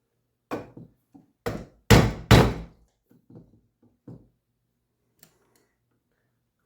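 Several knocks and thunks from a stuck part being pried off a Holley carburetor, a few sharp louder hits in a cluster followed by lighter taps and scattered small clicks, close and without talk.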